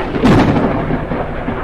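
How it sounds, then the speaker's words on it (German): Loud thunder from a storm in the video game Forever Skies cracks and then rolls into a dense, low rumble that fills the whole short moment. "Und bin jetzt absolut in den schönen Sturm geraten und der ist überhaupt nicht lustig."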